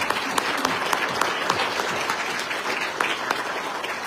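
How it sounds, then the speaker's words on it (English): Audience applause for the candidates at a city council at-large candidate forum, a steady dense clapping from a room full of people that holds evenly for about four seconds with no voices over it. "let's give these candidates a round of applause"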